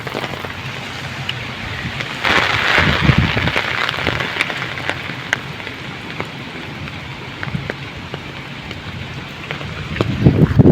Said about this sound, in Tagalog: hanggang ngayon lakas pa rin ang hangin